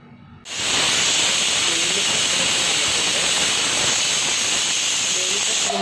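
A pressure cooker with duck curry inside releasing steam: after a brief quiet start, a loud, steady, close hiss kicks in and holds unbroken to the end.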